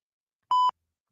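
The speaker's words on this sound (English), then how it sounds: "Because I got the beep." A single short censor beep sound effect, a clean steady electronic tone lasting about a fifth of a second, alone in silence.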